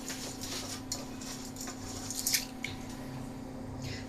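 Soaked rice tipped into a pot of boiling water for masoor chawal, giving soft wet squishes, patters and drips over a steady low bubbling hum, fairly faint with a few brief splashy bursts.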